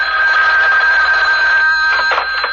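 A telephone bell rings loud and close in a radio drama, a continuous bright electric trill that keeps going throughout the moment.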